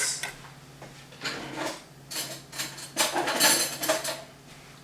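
Utensil clinking and scraping against a bowl while a paprika vinaigrette with salt and pepper for a tomato arugula salad is mixed, a string of light, close taps and scrapes with short pauses.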